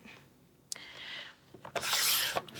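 Paper is cut on a grid cutter into half-inch strips for a card-making project, with short close scraping and slicing strokes and a brief rasping pass near the end.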